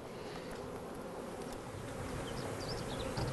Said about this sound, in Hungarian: Látványra is szép, igen, az a sok méh.